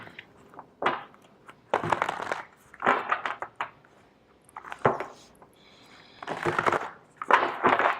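A deck of tarot cards is shuffled in several short, soft bursts of riffling and flicking with pauses between them, close and quiet.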